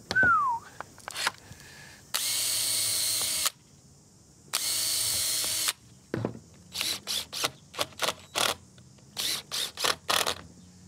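A power drill pre-drills holes for galvanised screws in timber while a wooden gate is built, with two sustained bursts of whirring followed by a string of short, loud, stuttering pulses, up close with no talk.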